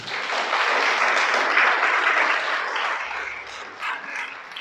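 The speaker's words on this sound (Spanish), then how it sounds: "Dale un aplauso." A congregation at a Shabbat church service breaks into applause, a dense wash of clapping that swells early and then gradually thins and softens toward the end.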